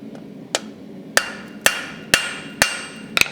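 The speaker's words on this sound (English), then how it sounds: "Just give it a few taps" A blacksmith's hammer taps a hot forged leaf on an anvil to tidy the stem transition: six sharp, ringing strikes spaced about half a second apart, close and clear with a short metallic ring after each.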